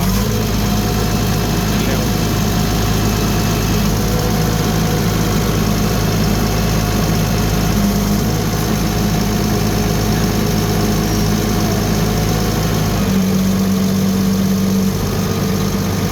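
Diesel engine of a JH30 wheel loader idling without revving, a steady, loud low drone with constant vibration for the whole stretch, a faint tonal whine rising briefly near the end.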